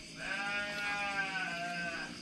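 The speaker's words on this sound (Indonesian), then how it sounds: "Itu tembus ke kandang domba." A single sheep bleats from a sheep pen in a drawn-out, wavering call lasting about two seconds, fairly close and clear against quiet surroundings.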